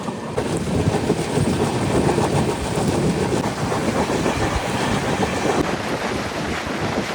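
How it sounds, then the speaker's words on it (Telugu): A passenger train hauled by a WAP electric locomotive, out of Samalkot near Kadiyam, runs with a steady, loud, broadband rumble and rattle, with wind buffeting throughout and no voices. "ఇదే మన ట్రైన్ అయితే సామర్కోట నుంచి స్టార్ట్ అయిపోయింది"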